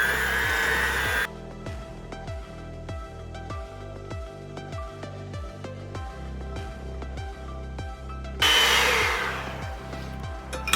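A handheld electric mixer with beaters runs at medium-high speed through pecan pie filling, giving a steady, loud motor whine with rhythmic churning pulses. Brighter, harsher bursts come at the start and end.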